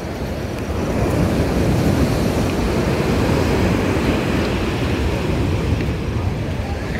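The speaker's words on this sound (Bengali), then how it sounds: "আলাদাই লাগে সমুদ্রের এই আওয়াজটা।" Sea waves surge steadily onto Digha beach during a night of rain, a loud, continuous roar of surf with wind buffeting the microphone throughout.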